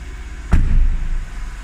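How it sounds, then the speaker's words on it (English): A 2007 Mercedes-Benz S550 engine starts with one sudden thump, then settles into a low, steady, smooth idle that stays up close with no voices. "the engine sounds beautiful"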